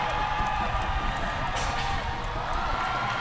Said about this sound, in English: the crowd is loving this as they take first blood in this match against Japan